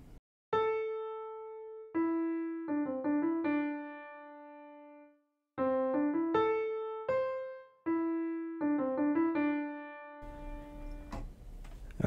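Piano playing three bars of a Bollywood song in a simple melody, clear separate notes in short phrases with held tones and a pause midway, close and alone, no talking.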